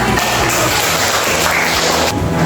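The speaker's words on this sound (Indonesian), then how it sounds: "Beri tepuk tangan." A class breaks into loud, dense applause that fills the whole moment, a steady wash of many hands clapping together with no voices standing out.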